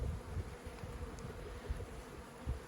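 Bees buzz around an opened beehive in early spring, a dense, continuous close-up hum with soft thumps now and then.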